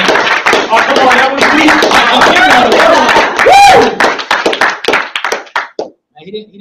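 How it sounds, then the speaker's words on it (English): Dense applause from an audience at a business motivation meeting, loud and sustained before thinning into scattered final claps, with voices and a brief whoop mixed in. "A round of applause for James."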